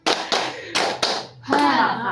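A group session practising a counted clap pattern, with a few sharp hand claps and taps in quick succession, close and fairly loud, followed by a voice speaking.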